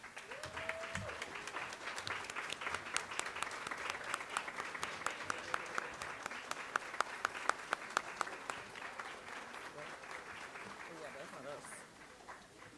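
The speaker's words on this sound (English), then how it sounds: "So stand up and give the grads a round of applause," Family members applaud graduates at a first-generation graduation celebration, a long round of clapping from a crowd with sharp individual claps standing out, steady and fairly loud before tapering off near the end, with faint voices underneath.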